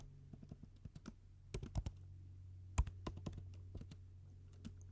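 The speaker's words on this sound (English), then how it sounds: "And we're going to type in small radii." Light, quick clicks of a computer keyboard typed while drafting in AutoCAD, an irregular run of soft keystrokes at close range in a quiet room.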